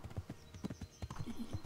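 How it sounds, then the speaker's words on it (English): Horse cantering in the video game Kingdom Come Deliverance, its hooves landing in a quick rolling rhythm of close, distinct thuds. "I'm just going to canter for a bit."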